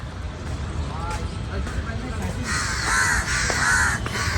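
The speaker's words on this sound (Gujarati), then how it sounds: "કાગડા કાં કાં કરે છે ઇધર" Crows caw repeatedly near an iron bridge by a lake, loud harsh calls clustering in the second half over steady outdoor background noise.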